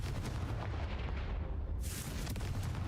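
A Confringo fire spell exploding in Hogwarts Legacy: a loud, close burst with a deep boom and a sharp crack, set against dense combat rumble.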